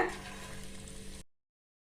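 Gram flour bondas sizzle steadily in hot oil at a roadside tea-shop stall, a continuous close crackling fry that holds for about a second before cutting to silence.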